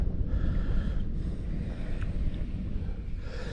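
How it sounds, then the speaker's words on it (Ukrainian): Wind buffeting a microphone outdoors while fishing for perch, a steady low roaring rumble that lasts throughout, loud and close, with no speech. "та ще й вітер в вухо надув"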